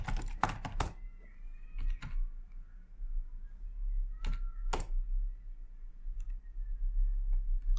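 Bursts of keystrokes on a computer keyboard, clustered quick clicks separated by quiet pauses, close and crisp over a low background hum.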